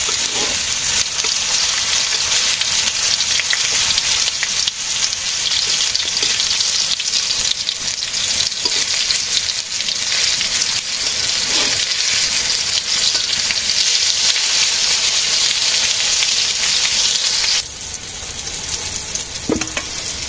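Pointed gourd (potol) fries in hot oil in a pan, a loud continuous sizzle with occasional stirring scrapes, close up and steady throughout, easing slightly near the end.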